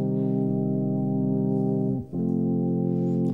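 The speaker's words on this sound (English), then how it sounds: "start with an organ sound that will sound like this." A sustained synthesized organ chord from a DRC synth, full and buzzy, holding steadily with a short dip and re-attack midway, with no talk.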